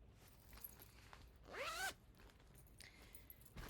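One quick zipper pull on a handmade project bag, a short rasping zip lasting under half a second and heard close up in a quiet room, with faint handling noises around it.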